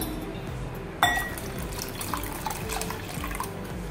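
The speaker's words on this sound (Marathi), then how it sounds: "यामध्ये पाणी घालूया." Water trickles into a vessel of fresh, unsour curd being thinned for summer ragi porridge, a soft steady pour starting with a brief clink of glass and running quietly near the listener.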